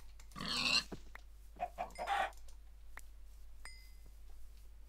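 Pigs in the Minecraft video game oink in a few short grunting bursts, fairly close and moderately loud, scattered across the clip over a steady low background hum.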